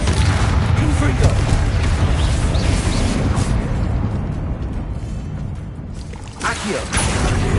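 A fiery explosive spell blasts in a Hogwarts Legacy fight on PS5, giving a dense, rumbling boom that rolls on under a player's voice, thins out in the middle and flares again with a sharp burst near the end.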